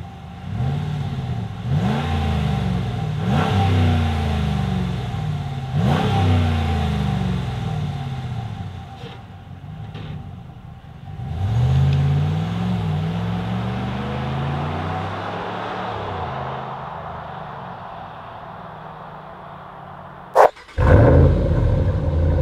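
A Dodge Ram pickup with a newly fitted exhaust system revs repeatedly in loud, deep rising bursts, then pulls away and drives off, the engine note fading before a couple of sharp clunks at the end.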